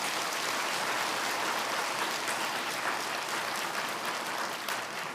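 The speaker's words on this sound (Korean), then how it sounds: "우리 한번 크게 한번 박수하세요." A church congregation at a Sunday revival worship service applauds middle and high school students and their teachers, a soft, distant wash of many hands clapping steadily throughout.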